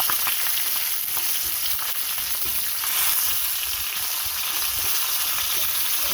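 Fish sizzling hard in hot oil in a pan, fried crisp, a steady loud crackle and hiss running unbroken throughout with no voices.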